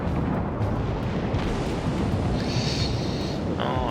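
Warship Z-44 sinking amid explosions in the World of Warships naval battle game: a dense, loud, continuous rumble of blasts and booming fire filling the whole stretch, with a brief hissing layer near the end.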